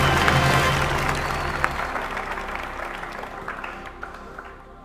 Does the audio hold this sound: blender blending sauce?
no